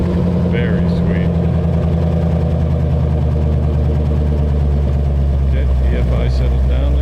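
A 1932 Ford Hi-Boy hot rod roadster with electronic fuel injection runs at a steady idle close by, a deep continuous engine rumble while someone talks over it.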